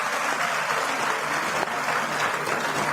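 A crowd at a women's honour ceremony applauds loudly for an executive president, a dense, even wash of clapping that holds steady for three seconds.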